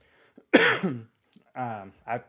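A man gives a single harsh cough up close, with short spoken sounds around it.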